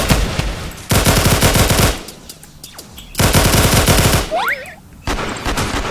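Bursts of automatic gunfire from a video game gun, several rapid rattling volleys separated by short gaps, loud and close with little else heard.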